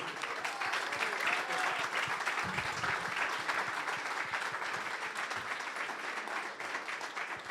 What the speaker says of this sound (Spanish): Un aplausote, por favor.